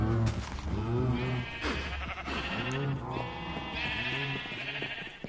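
Several sheep bleat repeatedly in a farming survival video game, loud and close, with overlapping calls alongside other farm animals and no talking.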